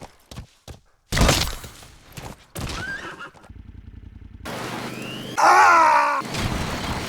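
D-Horse from Metal Gear Solid 5 whinnies loudly with a sharp, shrill neigh near the end, after bursts of clopping hooves and scattered game effects, with no talking.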